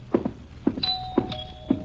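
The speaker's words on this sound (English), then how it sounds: "I answered the doorbell, madam" A doorbell rings in a 1951 radio drama of The Saint, a thin, sustained bell tone sounding under a series of four evenly spaced soft thumps like footsteps, with no voices.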